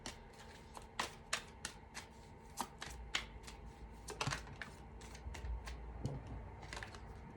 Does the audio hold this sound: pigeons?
no